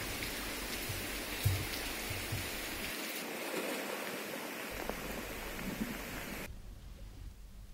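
Heavy torrential monsoon rain in Arunachal Pradesh pours down in a continuous dense hiss, loud and close, with a brief lull in the low rumble midway and a slightly thinner tail near the end.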